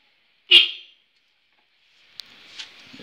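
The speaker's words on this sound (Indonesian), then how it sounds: "Dan kita bunyikan klaksonnya." A Denso car horn wired to a motorcycle gives one loud, sharp blast, then a few seconds later a fainter, rougher burst of noise with a brief click.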